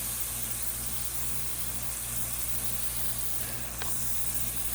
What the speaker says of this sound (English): let's just stick us a couple